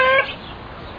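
Hens clucking in a farmyard, one loud close cluck at the start, then a fainter short cluck a moment later.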